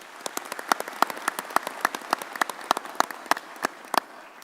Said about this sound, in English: So a round of applause for him too,